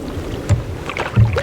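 A custom-made canoe paddle strokes the water on Georgian Bay near Philip Edward Island, Killarney, giving two soft, low swishes against steady wind noise, close by.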